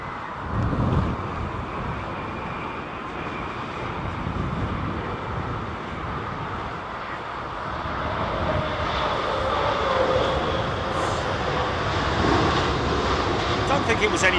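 Planes landing at Heathrow airport during Storm Isha give a sustained jet engine roar that slowly builds and swells, with gusty wind buffeting the microphone.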